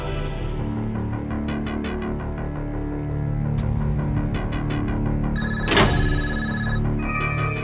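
A telephone rings with a repeating electronic ringtone, clear and steady over a background music bed, followed by a sharp burst of a brighter ring tone near the end.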